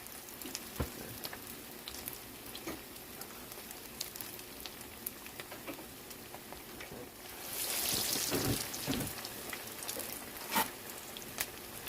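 Salmon croquette patties frying in a pan: a soft, steady background crackle that swells into a louder, hissing sizzle for a couple of seconds, with occasional light clinks of utensils.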